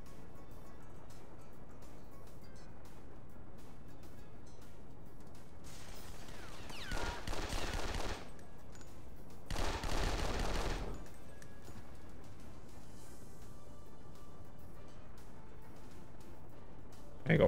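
Bursts of gunfire in James Bond 007 Nightfire on PC, two short, moderately loud volleys of rapid shots against a quiet, faintly humming background.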